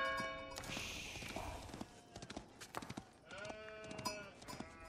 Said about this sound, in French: Oh, les moutons.